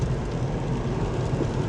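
Steady rain falls outdoors, a continuous broadband hiss and patter that stays even and fairly loud throughout with no voices.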